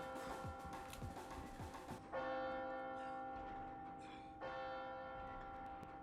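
A bell rings in Resident Evil 4 Remake, striking with a sustained, ringing tone that begins sharply about a third of the way in and swells again later, loud over a busy game background with no talking.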